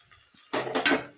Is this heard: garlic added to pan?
yes